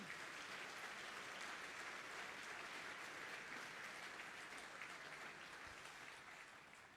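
Audience applause at the SuperValu TidyTowns Awards 2023 ceremony, sustained even clapping from a large crowd in a hall, lasting several seconds and slowly tapering toward the end, somewhat distant.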